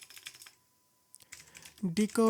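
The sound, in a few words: typing a folder name on a computer keyboard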